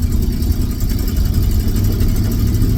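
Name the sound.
1984 Ford F250 truck engine running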